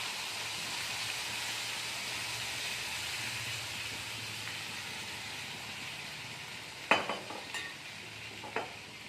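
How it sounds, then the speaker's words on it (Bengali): Mutton fries in a pan for malai curry, giving a steady, hissing sizzle throughout, with a few sharp clinks of stirring near the end and no voices. "এবার মাটনটাকে আমরা খুব ভালো করে একটু কষিয়ে নেব"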